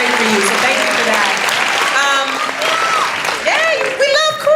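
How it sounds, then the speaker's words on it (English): A Comic-Con panel audience for The Witcher applauds, with dense, sustained clapping and cheering that fills the room, while a voice speaks over it. "They literally deserve a bigger round of applause on what y'all just did."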